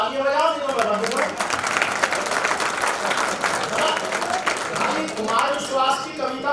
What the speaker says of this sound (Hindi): अच्छा लग रहा हो तो तालियां बजाओ, नहीं तो बजा दो।